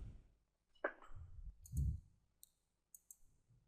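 Computer mouse clicks on a website banner, several small, sharp clicks spread over a few seconds, quiet and close with faint handling noise and no talk.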